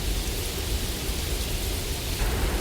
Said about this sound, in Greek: Τι καταιγίδα!